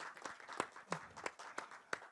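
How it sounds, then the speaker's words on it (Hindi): Scattered applause at the Jora 10 Numbaria film teaser launch, a handful of separate sharp claps in an uneven rhythm, fairly faint and sparse rather than a full ovation. "जोरदार तालियां हो जाए अमरदीप सर के लिए।"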